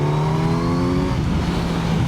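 A Kawasaki Z900 motorcycle engine accelerates hard and close, its rising tone holding strong before shifting into a rougher, lower growl.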